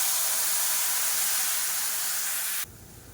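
Tamarind water poured into hot oil makes a loud, steady sizzling hiss that fills the clip, then abruptly drops to a quieter bubbling crackle near the end.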